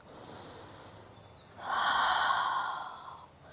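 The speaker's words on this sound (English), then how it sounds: "Take one more breath." Two slow, deep breaths during a yoga practice: a soft airy inhale, a pause, then a longer, louder exhale through the nose, close to the microphone with no talking.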